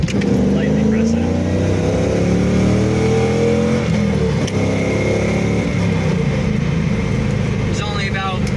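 A 1999 Pontiac Trans Am engine running under light throttle, a steady loud low rumble with slight rises in pitch as the pedal is eased, heard close up inside the car with someone talking over it.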